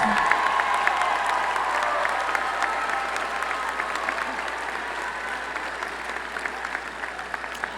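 Steady applause from a large audience at a university commencement ceremony, honoring the candidates' families as they stand, sustained and even for several seconds with faint crowd murmur beneath.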